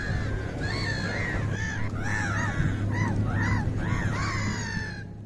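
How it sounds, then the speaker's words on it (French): Gulls crying over Lake Garda at Sirmione, a run of repeated harsh, rising-and-falling calls overlapping one another against a steady low hum, fairly close and loud throughout. "Le cri des mouettes dans un concert si beau regarde passer petits et grands bateaux"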